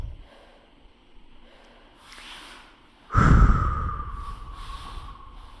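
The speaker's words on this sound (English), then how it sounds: "get that breathing under control" Heavy, loud panting and gasping after a jump rope workout, a sharp forceful exhale bursting in midway and then fading into labored breaths, close to the microphone with no talking.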